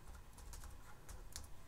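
Fingers tap quickly on a Compaq Armada laptop keyboard from 1999, a close, soft run of light key clicks in an uneven rhythm.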